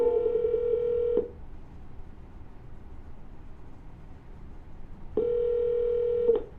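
An outgoing phone call rings through, giving two long, steady ringback buzzes of about a second each, separated by several seconds of near silence. The tones are clear and close, with no talking.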